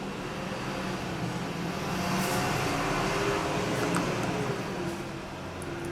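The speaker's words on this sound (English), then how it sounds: "sorry about the road noise, it's a bit noisy today" Outdoor road traffic makes a steady broadband rumble and hiss that swells slightly midway, with passing cars blending into continuous noise and no clear voices.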